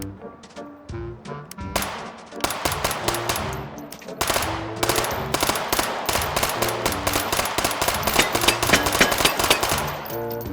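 Rapid bursts of gunfire from the Sergei Kilemov gun in the VR shooter H3VR, firing in its burst mode. Repeated loud, sharp volleys sound close and steady over a tonal background.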